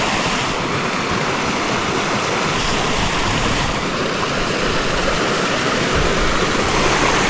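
A small waterfall on off-grid rural land in California pours in a continuous, loud rushing wash of water, steady and close, with no one speaking over it.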